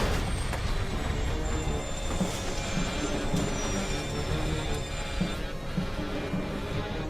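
Jet engines of a Qantas Airbus A380 roar during takeoff on flight 32, a loud continuous broadband rumble with a whining tone layered on top, steady throughout.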